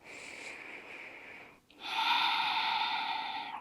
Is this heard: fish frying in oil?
no